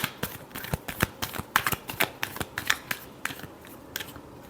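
Tarot cards are shuffled close by in a quick series of crisp, papery slaps and riffles, evenly paced, with no talk over them.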